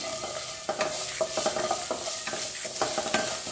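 Curry leaves and green masala fry for kadhi, a continuous sizzle broken by repeated scraping stirs of a spoon against the pan.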